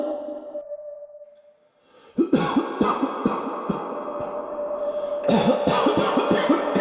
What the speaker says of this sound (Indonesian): terdengar suara seorang pria yang sedang batuk